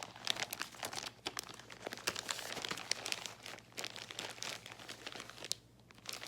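Plastic packaging crinkles and crackles almost without pause while a cross-stitch project is handled in a small stitch shop, the close, dense rustling rising and falling with a few sharper crunches and no talking.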